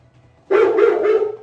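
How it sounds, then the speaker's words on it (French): A single dog gives a quick burst of about three loud, close barks inside a haunted-house attraction at an amusement park set in a forest in Poland. The barks come over a low background hum. "C'est le chien qui aboie."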